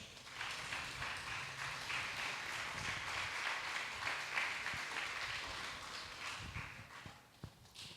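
A church congregation applauding during a Spanish-language evening service, a sustained spread of hand claps at moderate distance, fairly even and continuous, with a few sharper individual claps near the end.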